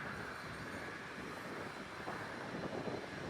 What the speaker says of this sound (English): next up we have Spirit Airlines Flight 1210 heading to Miami on the A320, now about to roll down from the North Complex at runway 8